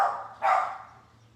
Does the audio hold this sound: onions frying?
no